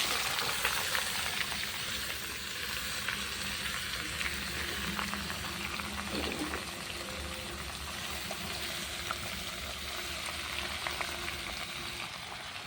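Crushed hog plums fry in spiced oil in a wok over a clay stove, giving a continuous, even crackling sizzle with faint bubbling for the whole stretch, and no voices.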